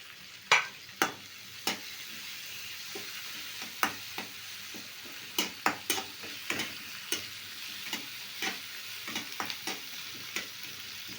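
Chopped tomatoes cook in a pan, giving a steady soft sizzle with irregular light clicks and taps of stirring scattered throughout, close and fairly quiet, with no talking.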